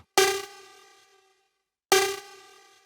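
Two metallic, clanging hits spaced apart, each decaying with a ringing, slightly grainy tail into silence, a sample time-stretched on an Akai MPC 2000XL sampler.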